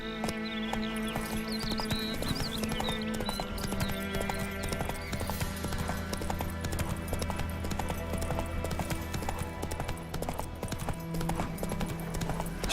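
Roach, the horse in The Witcher 3, gallops with steady, continuous clip-clop hoofbeats under layered game music, with an occasional whinny rising above the rhythm throughout.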